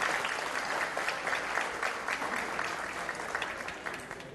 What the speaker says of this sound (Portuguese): Uma salva de palmas para a Lúcia.